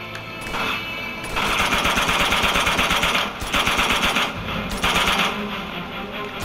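Rapid automatic gunfire from the video game Uncharted 2 rattles in sustained bursts, loud and dense, broken by brief pauses between volleys and playing on its own without talk.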